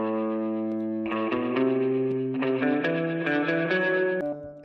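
Electric guitar chords played through a dark-toned spring reverb within a mix, with distorted, sustained strums ringing in sequence and a lingering reverberant tail.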